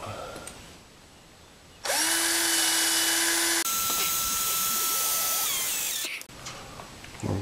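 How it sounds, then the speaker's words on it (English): A power drill whines loudly and steadily for about four seconds while drilling into a frozen, broken exhaust stud on a motorcycle, its pitch shifting partway through, then stops, leaving quieter background noise. "I'm just going to drill a little bit of a hole in here."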